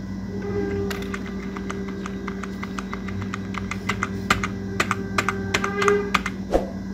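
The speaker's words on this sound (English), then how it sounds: "For that purpose I will type" Keys clack on a computer keyboard in a Kali Linux terminal, with irregular close taps and short bursts of keystrokes over a low steady hum.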